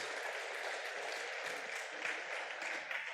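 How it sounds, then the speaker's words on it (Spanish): A church congregation applauding during a sermon, heard as steady, faint, distant clapping from a crowd, held evenly throughout with no voices above it. "hoy tú le des un fuerte aplauso al Rey de Reyes y Señor de Señores."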